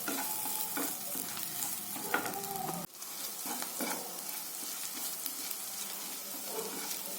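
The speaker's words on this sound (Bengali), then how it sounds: "এবার আদা রসুনটা হালকা ফ্লেমে একটু ভালোভাবে নেড়ে নিতে হবে" Chopped ginger and garlic sizzle steadily in a pan over a low flame, with scraping stirring strokes near and clear throughout and a brief dip partway through.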